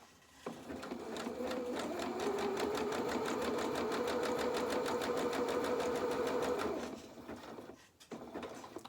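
Sewing machine running a continuous zigzag stitch along the seam of small doll pyjama trousers, a steady rapid mechanical whirr lasting several seconds, close and fairly loud, then stopping.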